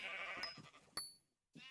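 Sheep bleat in the Minecraft game Hypixel Skyblock, several short game-sound bleats in quick succession near a desert oasis, followed by a brief pause and another bleat.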